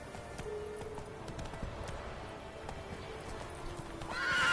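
Roach the horse gallops in a Witcher video game, a steady drumming clip-clop of hooves running throughout, with a loud neigh rising at the end.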